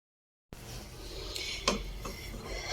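Béchamel macaroni is stirred in a pot, with a spoon scraping and clinking against the metal in a few irregular knocks over a soft, close kitchen background.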